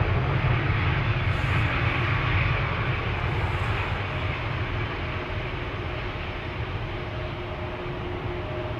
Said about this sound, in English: Embraer 195 long range on its way to Vienna.